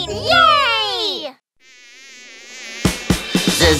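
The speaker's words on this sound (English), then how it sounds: "A buzzing mosquito" A high, thin mosquito buzz, steady and fairly loud, runs for about a second in a children's song, after a sung gliding phrase and before a voice comes in.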